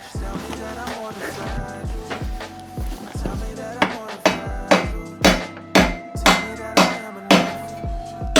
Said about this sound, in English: That little adapter just pops in there and then you hammer it in.